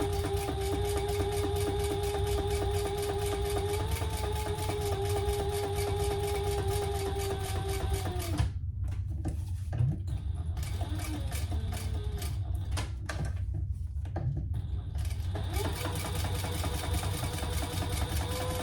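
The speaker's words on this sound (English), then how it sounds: "let's just top stitch" A sewing machine top stitching a divided fabric basket: a steady mechanical whirring hum with a rapid needle rhythm for about eight seconds, then stopping, followed by scattered clicks and shorter bursts of running.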